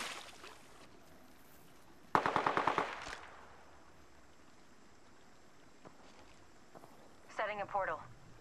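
Automatic gunfire in the Apex Legends video game comes in a sharp rapid burst, then returns as a shorter, quieter volley a few seconds later, with faint game ambience between.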